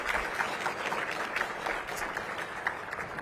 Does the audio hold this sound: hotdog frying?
no